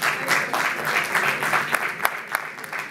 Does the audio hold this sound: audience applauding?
yes